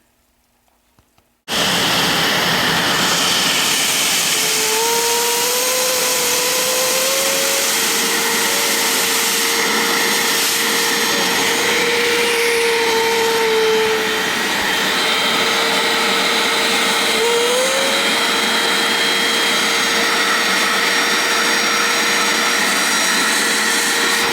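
Bissell Little Green ProHeat portable carpet cleaner running on a couch: a loud, steady motor whine and suction roar that starts abruptly after a brief quiet moment and holds at a constant level, with a few faint tonal shifts.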